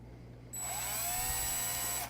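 An iPhone 7 being drilled with a 3.5 millimeter bit to add a headphone jack: a steady high-pitched whine starts abruptly and runs evenly for about a second and a half, close and loud, with no talking.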